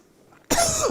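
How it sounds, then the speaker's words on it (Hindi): One abrupt, loud cough bursting out of near silence, close and harsh, trailing into a raspy exhale. "खांसी नहीं जा रही है"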